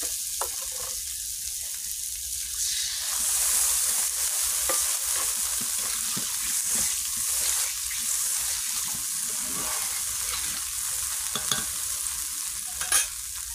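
Potato curry sizzles loudly in a pan of hot oil as water is poured in, with a bright continuous hiss and scraping stirring sounds close by, plus occasional clinks of the utensil.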